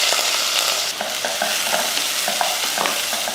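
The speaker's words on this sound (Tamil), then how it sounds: "வெங்காயம் ஓரளவுக்கு நல்லா வதங்கட்டும்" Two large onions sauté in hot oil with mustard seeds, urad dal, cumin and curry leaves, giving a steady loud sizzle broken by repeated scraping stirs of a spoon in the pan, with no voices.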